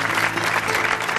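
A studio audience applauds in a steady, dense burst of clapping that stays close and loud throughout.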